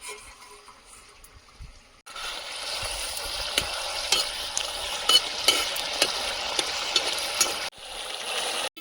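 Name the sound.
fish added to spiced masala, sizzling in the pan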